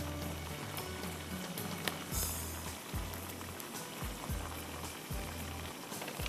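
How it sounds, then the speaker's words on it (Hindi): One tablespoon of crushed garlic fries in a hot pan, a steady close crackling sizzle throughout, broken by a few louder spatters and periodic low thumps. "1 टेबलस्पून क्रश्ड गार्लिक, थोड़ा सा गार्लिक ब्राउन करेंगे, कच्चापन उसका ख़त्म हो जाए।"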